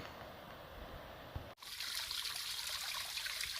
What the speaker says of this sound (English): Put the water bottle right up underneath that nice flowing stream there.